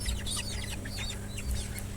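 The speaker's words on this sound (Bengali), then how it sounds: "এগুলো একদম পিওর অরিজিনাল দেশি মুরগির বাচ্চা।" Native desi chickens and chicks on a farm, with a rapid stream of high peeping chirps from the chicks over low clucking and a steady background hum, close and fairly quiet.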